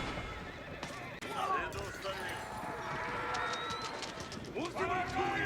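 Horses neigh and whinny amid galloping hoof clip-clops during an Age of Empires 4 battle with horse archers, several close whinnies rising over a busy bed of game noise.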